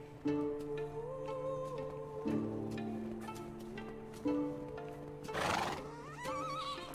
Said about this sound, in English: You're saying Barnaby is trying to get my attention because he's cold? Well, then he's a weak horse and deserves no help from me.